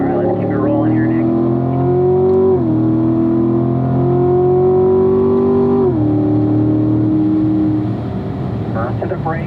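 A Corvette accelerates hard on a race track, its engine note climbing steadily through two gear changes, loud and close throughout, with a driver's voice talking at the start and end.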